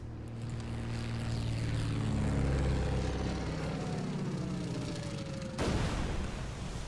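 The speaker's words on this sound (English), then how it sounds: "I've got another torpedo bomber here." A World War II Pacific torpedo bomber in the strategy game Order of Battle Pacific: a loud, steady propeller engine drone sweeps past, then a sharp burst near the end, with no voices.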